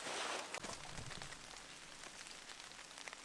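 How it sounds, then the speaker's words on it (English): Rain falls in the woods around a campsite fort, a soft steady patter of drops on leaves and ground, faint and even, with a slightly stronger burst at the start and no voices. "Oh, it's raining."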